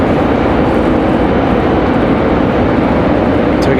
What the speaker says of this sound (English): American Airlines 3247 coming from Washington, D.C. A319-100 coming from D.C.